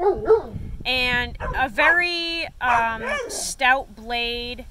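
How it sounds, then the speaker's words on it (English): Dogs barking playfully in short, loud yips and bow-wows nearby, a rapid series of excited barks over and around someone talking. "I am so sorry for the barking."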